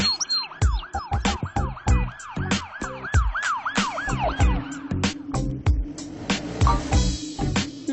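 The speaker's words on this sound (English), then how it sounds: "Ambulance." An ambulance siren wails loud and close in a rapid rising-and-falling yelp, joined partway through by a lower steady tone and other vehicle sirens, with no talk.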